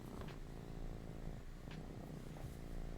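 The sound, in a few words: cat purring while rubbing its face on the microphone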